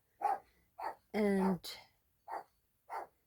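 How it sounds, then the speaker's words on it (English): An indoor pet dog barks several times in short separate bursts, fairly close, with a longer whining yelp in the middle and a person speaking briefly. "That's my dog."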